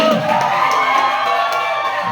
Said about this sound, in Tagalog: ipaninig pa natin yung palakpakan na may kasamang sigaw